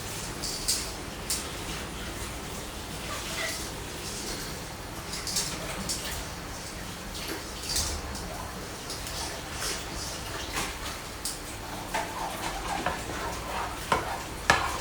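Butter and olive oil heating in a pan give a faint, steady sizzle, broken by scattered pops and utensil clicks against the cookware over about fifteen seconds.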